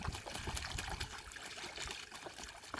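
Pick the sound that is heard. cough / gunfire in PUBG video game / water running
water running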